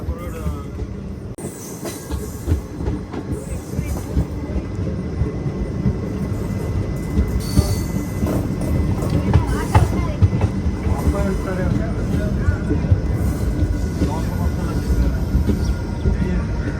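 An express passenger train rolls through an Indian railway station, a steady loud rumble of wheels with clickety-clack and brief squeals across about seventeen seconds, with some voices faintly under it.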